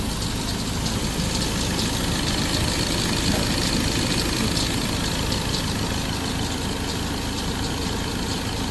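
A 2.0 Bi-turbo engine idles just after starting, with injector trouble: a steady, dense, continuous mechanical drone and clatter, close and unchanging throughout, with no talk.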